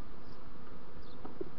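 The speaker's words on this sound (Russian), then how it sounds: "Пчелы тут много." Honey bees hum faintly around an open hive during a frame inspection, a soft continuous buzz with no voices over it.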